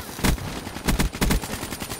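Rapid bursts of automatic gunfire from the video game Call of Duty: Black Ops III crack out in quick clusters, loud and close, several shots in two seconds.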